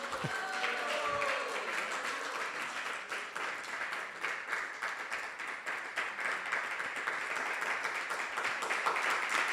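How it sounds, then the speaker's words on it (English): Audience applause for a speaker at a temple gathering, a continuous patter of many clapping hands heard from a distance and rather faint, with a few voices mixed in at the start. "So please give a big round of applause and Hari Bol."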